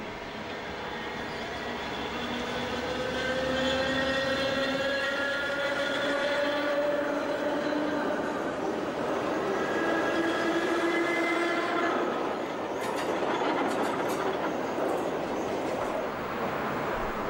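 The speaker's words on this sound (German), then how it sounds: "Ein Zug der S7 verlässt den Lehrter Stadtbahnhof." A Berlin S-Bahn S7 train of the 1990s-era Stadtbahner type pulls out of Lehrter Stadtbahnhof station with a loud continuous rumble, its traction motors whining in several rising tones, followed by sharper rail clatter near the end.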